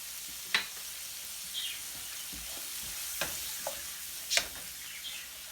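Chopped onions sauté with cilantro and a pinch of salt in a pan, giving a soft, steady sizzle with a few faint scraping stir clicks spaced through the quiet background.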